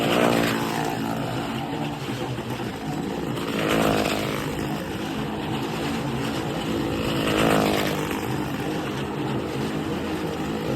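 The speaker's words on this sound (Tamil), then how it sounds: "இப்போ காரு பைக் ரெண்டுமே போகுது" Engines of a car and a motorcycle roar continuously at close range inside a circus well of death, the pitch swelling and fading in regular sweeps as they circle round and round.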